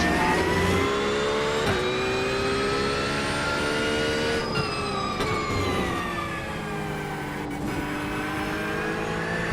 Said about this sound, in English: Okay, Robin, there's a faster class car approaching.